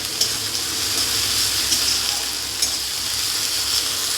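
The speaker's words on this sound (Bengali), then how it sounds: "দিয়ে দেবো হলুদ, আদাটাকে আর হলুদটাকেও ভালোভাবে মিশিয়ে নেব," Ginger and turmeric stirred into frying murla fish in a pan, giving a loud, continuous sizzle and crackle with occasional scraping strokes of the spoon, close up and without talk.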